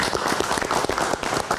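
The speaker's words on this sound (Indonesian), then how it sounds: "Oke, kita berikan tepuk tangan sekali lagi untuk Mas Piyu." An audience bursts into dense, continuous applause, many hands clapping at once, loud and close.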